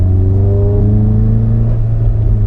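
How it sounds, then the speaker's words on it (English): An APR Stage 2 tuned VW MK7 GTI in sport mode, its engine held in a low gear with a loud, close, steady droning rumble and rising harmonic tones as revs climb. "in sport mode, it just keeps downshifting, the lowest gear, holding gears."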